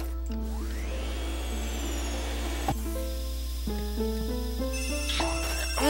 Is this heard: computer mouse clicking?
no